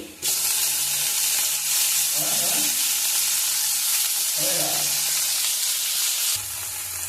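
Onion and tomato sizzle and crackle steadily in a hot pan, with a couple of brief stirring scrapes partway through and a short pause near the end.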